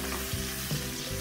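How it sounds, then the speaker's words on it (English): Almonds sizzle and fry in a pan while butter chicken is cooked on low heat, a steady close crackling hiss with light stirring and no talk. "So that's the almonds going in."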